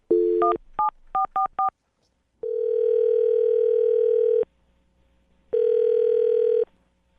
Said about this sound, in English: I'm going to call the phone number right now.